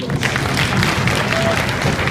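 Audience at a Model United Nations conference in Shillong applauding the delegates, a dense steady patter of many hands clapping at even loudness with murmured voices underneath.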